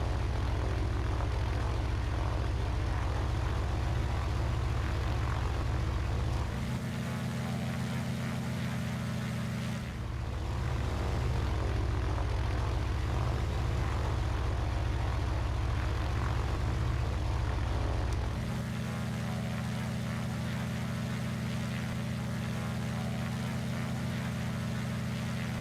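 A propeller aircraft lands at an airport in the video game Arma 3, with a loud, steady engine drone close by throughout that shifts pitch and intensity several times as power changes around touchdown.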